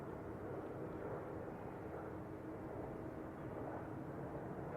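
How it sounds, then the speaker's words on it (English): A Delta Boeing 767-300ER arriving at San Francisco Airport produces a faint, steady broadband engine rumble, distant and unchanging across a few seconds. "our next arrival is going to be a Boeing 767-300ER"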